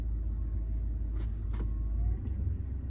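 A car engine rumbles steadily up close, with a faint whine from a worn alternator bearing running through it and a couple of brief hissing bursts partway.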